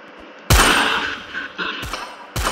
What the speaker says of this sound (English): Shooting my own teammates!